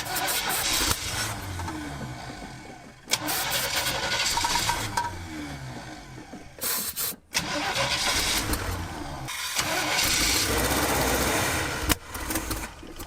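An engine cranks and catches, then runs loud and rough, seemingly out of time, with a few brief cutouts, steady mechanical roar filling the space.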